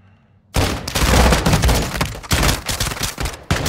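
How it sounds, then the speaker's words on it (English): Loud, sustained automatic gunfire in Modern Warfare 2 fired through a table, starting abruptly after a brief quiet moment and continuing as a dense, close rattle of rapid shots, with no talk. "Swiftor says fire through the table."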